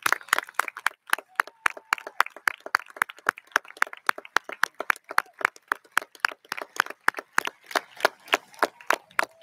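A large audience at South River High School's 2021 commencement ceremony breaks into sustained applause as cum laude graduates stand, a dense, even stream of sharp claps carrying on for the whole stretch with no talk over it.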